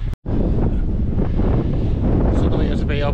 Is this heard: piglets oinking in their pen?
no